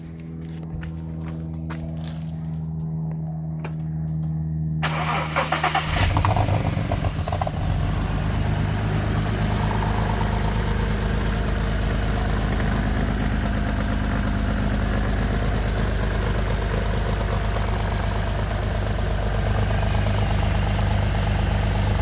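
A 3.4-litre VR6 engine in an Audi TT cranks and fires, jumping to a loud, steady idle that runs on with a deep, constant drone, close up.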